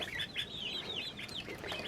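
Several chickens cluck and squawk in quick, overlapping calls, fairly close but soft, with a low background hum beneath them.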